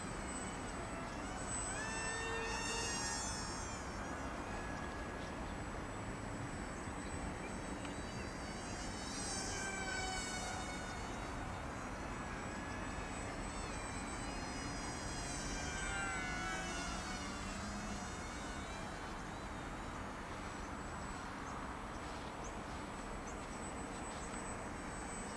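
A Z51 Predator beginner RC airplane flies overhead, its small electric motor giving a steady, thin insect-like buzz that swells and fades in pitch as it passes, over a constant outdoor background for the whole stretch.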